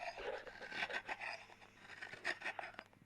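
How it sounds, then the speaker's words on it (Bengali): Patali palm jaggery crumbled by hand into a bowl for pitha, a faint, close dry rubbing and gritty crunching in irregular short bursts. "পাটালি গুড় এবার গুঁড়ো গুঁড়ো করে নিব একটু।"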